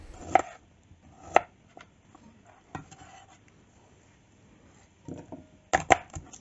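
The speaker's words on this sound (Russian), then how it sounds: "Нарезаю имбирь." Sharp knife chops on a cutting board, cutting ginger, some single and some in quick clusters, separated by quiet gaps.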